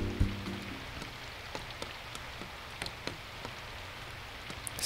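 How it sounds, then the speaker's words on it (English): Rain falls steadily in a visual novel game, a soft constant patter on the ground with scattered sharper drops ticking out, faint and unbroken, with a low thud near the start. "the sound of the rain hitting the ground"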